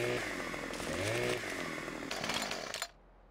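A wood chipper in the Farming Simulator 17 video game grinds loudly through wood with a rough, whining mechanical roar, surging for about three seconds before cutting off abruptly.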